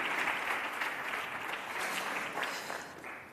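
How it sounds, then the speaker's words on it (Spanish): Steady applause from an audience welcomes a speaker named Pablo at a music event, a continuous wash of clapping at moderate distance with no speech over it. "Pues aplauso para Pablo."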